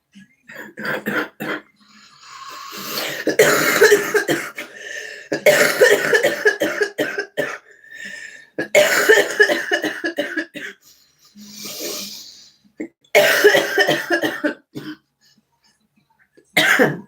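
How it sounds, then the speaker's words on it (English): A person coughs repeatedly in harsh, raspy bursts, some long and some short, with throat clearing and quiet gaps between the fits. "I needed that cough in my life."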